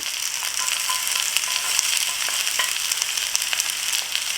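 Mushrooms and a little garlic fry gently in a pan on low heat for a vegetable stir fry, giving a steady soft hiss with faint ticks and scrapes, close and wordless.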